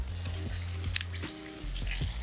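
Quail breasts sizzle steadily in a frying pan at a low level, the frying broken by a few light clicks and taps of turning and handling, with no voices.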